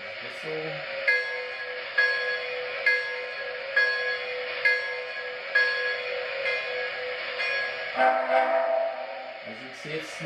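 A live-steam model locomotive, number 1393, styled as a Southern Railroad Crescent Limited, sounds a steady whistle over a rhythmic chuff that repeats about once a second, with a shift in tone near the end and faint voices in the background.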